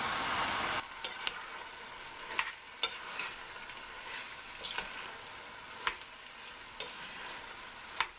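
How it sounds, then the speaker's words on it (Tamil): Masala pasta is stirred in a pan on a stove turned down low. A soft sizzle runs throughout, broken by sharp scraping clicks from the spoon every second or so, and no one speaks. "ஸ்டவ்வை நல்லா குறைச்சி வச்சுட்டு இது ஒரு நிமிஷம் நல்லா அப்படி கிண்டி விடுங்க."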